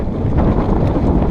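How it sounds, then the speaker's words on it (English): Steady gusty wind roars across the microphone on an exposed anchorage at Kalymnos, Greece, aboard a sailing catamaran, a loud continuous low rumble with surging buffets throughout. "It's a windy day"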